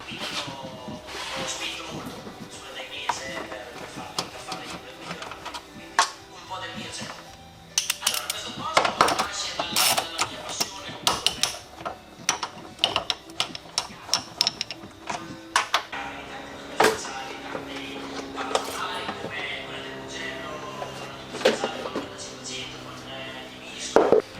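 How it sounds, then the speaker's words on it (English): A ratchet and hand tools remove the airflow meter from a Ford XR8 Sprint engine bay, giving irregular close clicks, taps and metallic rattles with pauses between bursts and occasional talk. "let's take this airflow meter off and see what we're dealing with"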